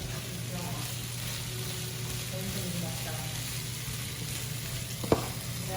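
Green beans sizzle steadily in a hot pan with a low hum underneath, while a utensil stirs them with soft scraping, and a single sharp clack of the spoon against the pan stands out near the end.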